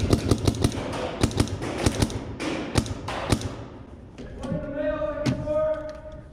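Several sharp paintball marker shots fired at an opponent, a quick irregular run of snapping pops and thuds, fairly close, with movement noise and a brief voice partway through.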